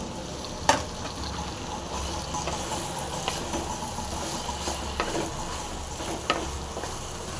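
Bitter gourd frying in a tamarind gravy, a steady close sizzle and bubbling hiss with a few sharp clicks of stirring, continuous and without speech.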